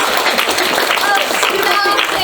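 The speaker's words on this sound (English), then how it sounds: "Clap to the queen! Clap!" Onstage during a play, a crowd bursts into loud, dense applause for a queen character. Many hands clap close together in a steady roar for about two seconds, with voices mixed in.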